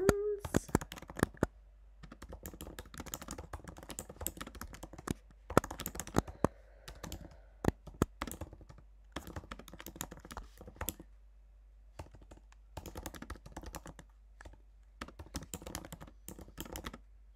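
Someone types instructions on a computer keyboard: bursts of quick close clicking keystrokes separated by brief silent pauses, steady and alone.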